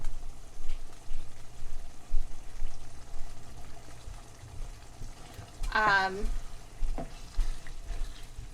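Shepherd's pie beef filling simmers in a pan with a soft, steady bubbling hiss close by, interrupted midway by a brief clatter and a short tonal squeak, with a voice speaking quietly at moments.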